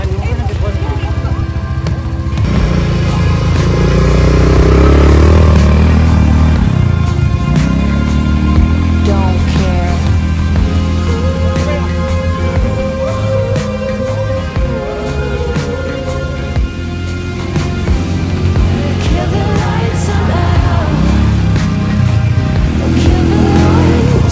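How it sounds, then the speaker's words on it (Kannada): An ATV engine drones steadily throughout a ride at a resort near Bangalore, loud and close, with people talking over it. "ಇವಾಗ ATV ರೈಡ್ ಮಾಡೋಣ"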